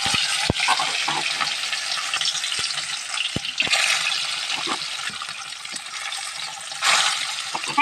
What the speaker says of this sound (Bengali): মাছের একটা পিস ভেজা করে দেখুন নিচটা কিন্তু আমরা সুন্দর করে ভেজে দিচ্ছি।